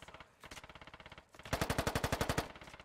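Machine gun fire in the tactical shooter Squad: rapid evenly spaced bursts, a shorter quieter string followed by a louder, closer sustained burst of about a dozen rounds.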